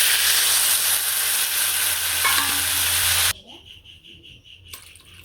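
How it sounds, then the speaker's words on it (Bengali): Boiled potatoes with turmeric and chili frying in oil, a loud, even sizzle with a brief scrape of stirring, cutting off abruptly to quieter room noise with faint clatter. "আলুগুলো একটু ভাজি ভাজি করে এখন তেল দিয়ে দেবো"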